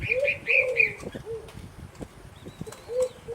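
A young dove being taught to feed itself gives repeated short, wavering coos and squeaky calls, close by, with light handling and rustling sounds between them.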